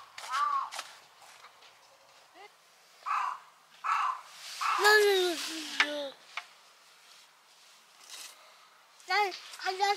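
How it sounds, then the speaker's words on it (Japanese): Several crows caw outdoors at a snowy winter campsite in Hokkaido, harsh calls coming in bursts of two or three with pauses between, fairly near and loud, with some faint voices in the background. "カラス何て言ってる？"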